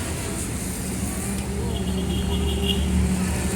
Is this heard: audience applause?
no